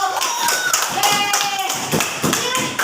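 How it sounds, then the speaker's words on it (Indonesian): Classroom clapping for the first student group after its presentation of origami-paper and matchstick rectangles, steady rapid claps with voices chattering over them throughout. "Boleh kasih tepuk tangan untuk kelompok 1"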